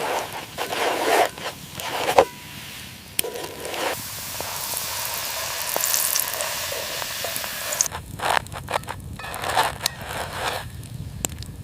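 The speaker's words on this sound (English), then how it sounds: "Listen to that sizzle." Loud, steady sizzling and hissing from octopus searing in oil in a hot cast-iron pan over an open fire outdoors, with occasional crackles and pops and a brief shift in the hiss partway through.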